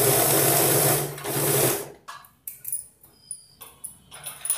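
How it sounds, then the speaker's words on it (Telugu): A sewing machine stitching a cloth face mask piece runs in a loud steady whir, then works in short bursts of rapid stitching separated by pauses. "ఇక్కడ మార్కింగ్ పెట్టుకున్న దగ్గర ఇది ఈ పీస్ సైడ్ మాత్రమే కుట్టేసేయాలి"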